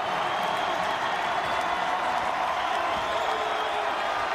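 Loud, continuous basketball arena crowd noise with cheering and some clapping at a Tulane vs Wichita State men's game, holding steady as a broad roar.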